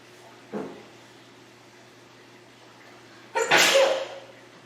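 A person sneezes during a quiet indoor scripture class, with a small sharp catch of breath first and then one loud, forceful sneeze a few seconds later, set against faint room hum.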